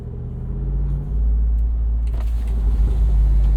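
A V8 Jeep Wrangler Rubicon 392 from 2021 idles with a deep, close rumble inside a tunnel, then revs and swells louder partway through, and the echo carries the low drone.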